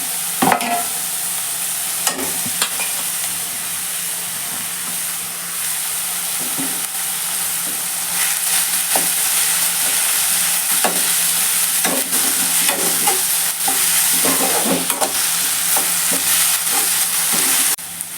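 Ginger garlic paste and curry leaves fry in a pan with a steady, close sizzle, while a spoon scrapes and stirs in repeated clatters throughout, and no one speaks.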